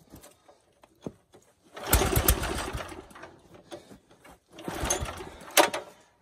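A 2010 Huskee 35-ton log splitter's gas engine is pulled over outdoors, giving two loud, close bursts of rough sputtering cranking separated by a quieter gap, with small clicks and knocks before and between them.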